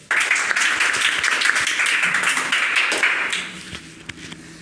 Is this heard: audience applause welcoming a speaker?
yes